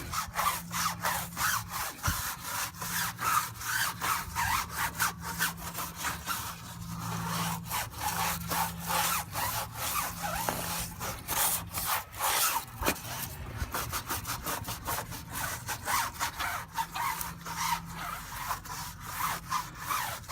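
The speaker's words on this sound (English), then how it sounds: "just go ahead and grab your tire brush or whatever type of brush you want to use, and go ahead and scrub it down" A car tire is scrubbed with a stiff tire brush, giving a steady, dense rasping and brushing that runs continuously at moderate loudness and close range, with no talk.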